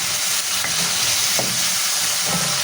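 Chicken fries with cinnamon in a kadhai for chicken tikka boti, giving a loud, close, continuous sizzle with a few soft scrapes of stirring scattered through it, with no voices.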